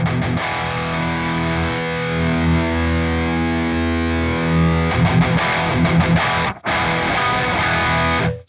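High-gain electric guitar played through Graphene and Nutcracker overdrive pedals, producing a thick, sustained distorted chord that rings loudly, then shifts to choppier strummed chords with a brief cut near the end; no one talks.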